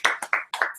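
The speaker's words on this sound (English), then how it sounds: "give yourself a round of applause." A few people clap in a short, sparse burst of about five claps, close and fairly quiet, at a small meetup.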